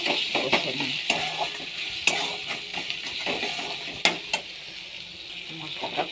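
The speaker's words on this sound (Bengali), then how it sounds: "দিয়ে ভালো করে মশলাটা কষে নিই।" Masala cooked down in a pan with turmeric, chili powder and salt gives a steady close sizzle, broken by sharp spoon-on-pan scrapes and clacks as it is stirred.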